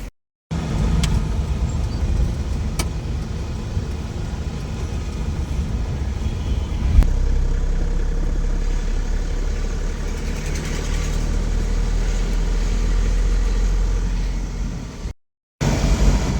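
A car turns off a national highway onto a narrow village road near Pingla in Medinipur, its engine and tyre rumble a loud, continuous low drone from inside the vehicle, with a brief dropout near the start and end.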